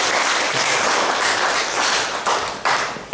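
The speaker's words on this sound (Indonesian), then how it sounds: "Beri tepuk tangan untuk Tuhan." A church congregation at a Sunday service claps for God, a loud, close burst of mixed clapping and tapping that thins toward the end with a few sharper claps.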